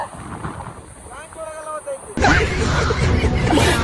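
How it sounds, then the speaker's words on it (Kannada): Wind buffets the microphone in strong, rumbling gusts on a trek near a waterfall, with people talking underneath and an engine-like hum earlier on. "ಯಾವ ತರ ಗಾಳಿ ಬೀಸ್ತೈತಿ ಅಂದ್ರೆ"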